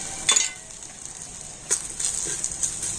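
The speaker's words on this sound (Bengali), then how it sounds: "সমস্ত মশলাগুলো আমি একটু হালকা করে ভেজে নিয়েছি" Coriander, turmeric and garam masala frying in a pan make a soft, continuous hiss, with a few brief louder crackles and stirring scrapes rising out of it.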